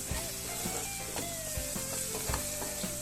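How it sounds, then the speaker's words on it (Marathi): Masala for egg bhurji sizzles in hot oil with a steady crackling fry, punctuated by regular scraping stirs of a spoon in the pan, close and moderately loud. "मसाल्यांना आपण होऊ देऊ तेल सुटेपर्यंत"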